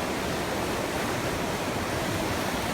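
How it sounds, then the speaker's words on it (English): Steady, loud broadband rushing of river water flowing close below a spot near a waterfall, a continuous roar with no breaks and no voices. "you're standing right over the river"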